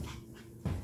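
A Shih Poo puppy pants softly at close range, then lets out a brief, louder whimper near the end.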